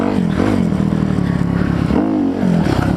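A Kawasaki KLX300R dirt bike engine revs loud and close, its rough, throaty drone rising and falling in several throttle blips across the stretch.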